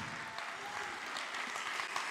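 A gathered audience claps for summer camp animators, a faint, steady patter of many hands continuing throughout.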